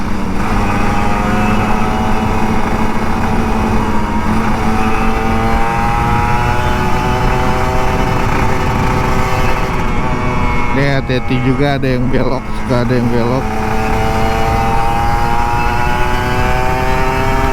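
A Kawasaki Ninja RR 150 two-stroke engine runs steadily on a weekday Jakarta street, with rising, revving harmonics near the end, under continuous nearby talk.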